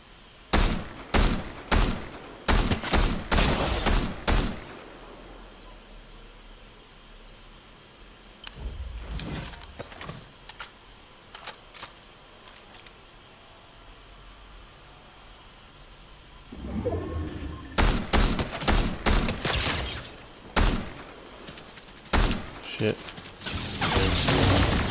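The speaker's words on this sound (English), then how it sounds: "Overclocked pulse rifle." Overclocked pulse rifle in Fortnite fires in sharp, rapid bursts, a loud volley at the start, a few scattered shots midway and another dense burst near the end, with quieter game ambience between.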